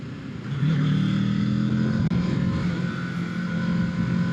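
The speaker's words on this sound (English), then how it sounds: "getting better at that little rev matching" A 2025 Kawasaki Ninja 650 motorcycle on a cold ride to work, its engine holding a steady close droning note with a slight shift as the rider rev matches during a downshift, no talk.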